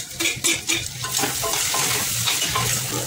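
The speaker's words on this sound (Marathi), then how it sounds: "आता आपण टोमॅटो घालूया।" Tomatoes tossed into a pan of frying spiced moong dal masala with coriander powder and garam masala, giving a steady close sizzle with stirring clinks and scrapes, no talking.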